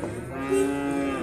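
A single long, low cow moo, close and steady, with no other sounds around it, at a livestock market in Alay, Kyrgyzstan.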